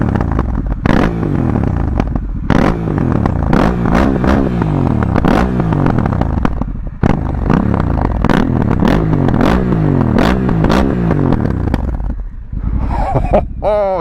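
A Honda Africa Twin motorcycle fitted with a Fuel exhaust revs hard over and over, sharp throttle blips rising and falling loudly and close by across the whole stretch, the engine settling toward the end.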